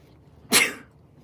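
A single loud sneeze bursts out close by, sharp and broadband, fading quickly into a quiet room.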